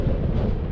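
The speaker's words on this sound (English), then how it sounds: "that wind has really picked up here" Strong wind on an open hillside in the Northwest Highlands of Scotland roars and buffets the microphone, a loud, unbroken, low rumbling rush with no voices.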